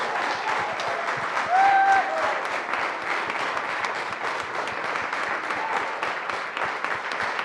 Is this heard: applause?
yes